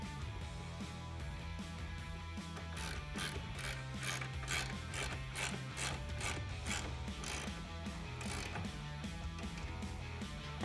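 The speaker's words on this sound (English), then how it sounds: "I try to get as far back as we can near the end of the bed" Rear clamp of a Proven Ground roll-and-lock tonneau cover being fitted near the end of an F150's bed, with steady mechanical clicking and ratcheting throughout, close and even, no talk.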